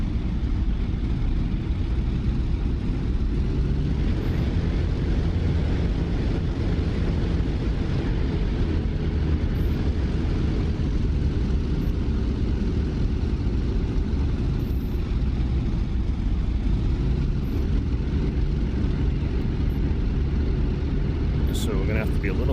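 P-47 Thunderbolt Block 40 radial engine rumbling steadily in DCS as the heavily loaded fighter taxis out, a loud continuous low drone with constant broadband roar throughout, no voices.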